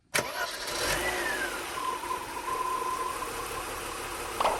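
A Mercedes W126 300 SE six-cylinder engine starts and settles into a steady, smooth idle, heard up close and continuous, with a faint rising whine and a brief clunk at the end.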